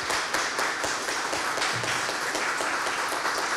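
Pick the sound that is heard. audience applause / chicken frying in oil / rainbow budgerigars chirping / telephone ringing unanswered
audience applause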